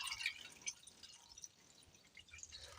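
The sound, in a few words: water poured into a pot to boil carrots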